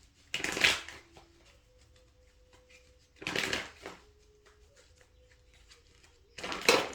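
A deck of tarot cards is shuffled in three quick riffling bursts, close and crisp, with quiet pauses between them and a faint hum underneath.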